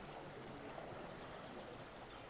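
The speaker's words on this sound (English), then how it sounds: "this river here, splitting the course" A river flows across a mountain bike World Cup race course at Houffalize in 1993, near a bridge built for riders, giving a steady, even rush of water that holds at one level throughout, with no voices.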